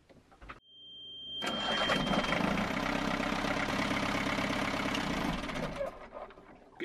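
A sailboat's inboard engine is cranked over by the ignition, first a short starter whir, then a pause, then a loud, sustained churning run for several seconds that trails off near the end.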